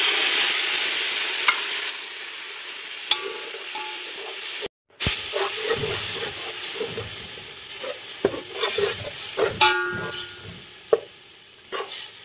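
Beef stock poured into browned onions frying in a pot for beef yakhni pulao, a sharp burst of hissing steam and sizzle with stirring scrapes and clinks, settling into a bubbling simmer.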